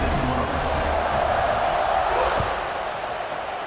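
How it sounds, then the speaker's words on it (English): A football stadium crowd at a college game between FSU and Mizzou keeps up a loud, steady roar and buzz throughout, broad and continuous with no distinct voices standing out. "this crowd is buzzing after that last score"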